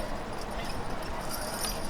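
Draft horses compete at a heavyweight horse pull in Hamburg, New York. Their steps come through as steady, muffled thuds inside a dense, noisy crowd and arena wash, and no single hoofbeat clearly stands apart.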